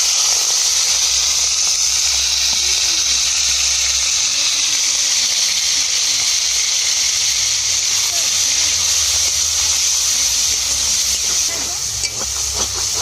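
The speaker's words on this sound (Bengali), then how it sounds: "চিংড়িটা ভেজে নেবো।" Prawns frying in hot oil in a kadai, a loud continuous hissing sizzle close by, with someone talking faintly beneath it.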